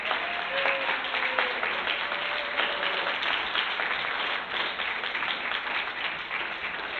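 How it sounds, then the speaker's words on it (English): An audience at a comedy benefit show claps steadily for the participants: a dense, sustained wash of applause filling the room at an even level, with a faint voice briefly audible early on. "Give them a big round of applause,"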